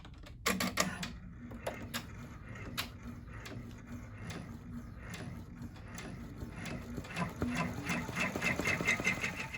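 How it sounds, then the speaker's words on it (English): An embroidery machine runs a tack-down stitch on a mug rug with a rapid, steady mechanical chatter of needle strikes. A few sharper clicks come near the start, and the machine grows slightly louder toward the end, with no talking. "and then we will run our tack down stitch"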